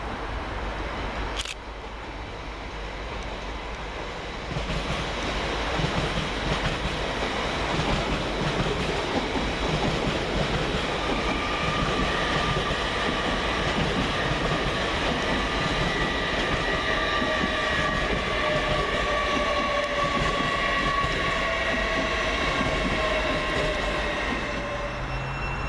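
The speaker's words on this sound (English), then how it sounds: "Another double LNER set in the form of 801111 and 801107, working the 1152 service from London King's Cross to Leeds." Two coupled LNER class 801 units pass through Peterborough station on a London King's Cross to Leeds service, a loud steady rumble of wheels and motors with rising electric whines building as the train rolls by up close.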